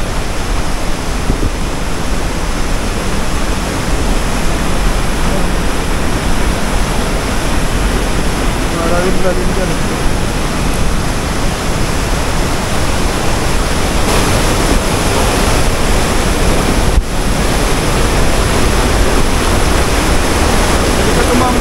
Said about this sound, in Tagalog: Yan yung tubig yan, malakas.